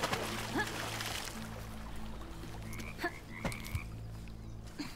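Several frog croaks and squeaky calls ring out in the Bramble The Mountain King video game, scattered over a steady hum of ambient game music and trickling water, with no talking.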